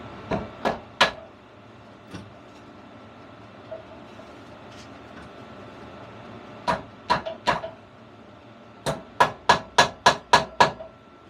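A hammer taps the engine of a 1964 NSU Quickly S23 moped to knock it loose during removal. Sharp metallic knocks come close and loud in short bursts: three, then a pause, three more, then a quick run of six.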